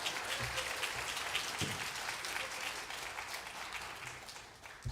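A church congregation claps together during a Sunday sermon, a steady, fairly distant wash of applause that lasts the whole stretch and fades slightly toward the end.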